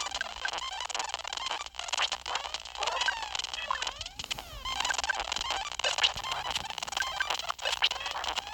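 Ducks honk and squawk in Earthbound, a busy, repeated chatter of bird calls layered over the game's music, steady and fairly loud throughout.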